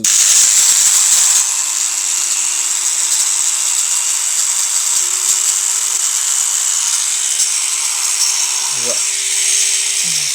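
A rotary engraver fitted with a Proxxon or Distar tile-cutting disc whines at a high steady pitch while cutting tile, loud and close throughout, with a brief louder grind at the start.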